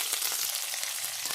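Chopped green chilies and crushed garlic fry in hot mustard oil with a dense, even crackling sizzle, close and continuous, with no voices.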